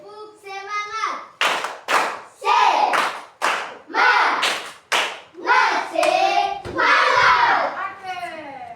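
Primary school children in a classroom perform a rhythmic spirit clap, sharp unison claps in a patterned sequence, with a teacher and children chanting loudly between and over the claps.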